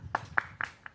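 Tepuk sakinah clapping pattern in a small learning session: four sharp, evenly spaced hand claps in quick succession, close and fairly quiet, with no talking.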